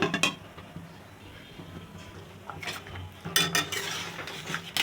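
A metal lid set on a pot of boiling potatoes, giving a few sharp clinks and clatters, one early and a cluster near the end, over a quiet kitchen background.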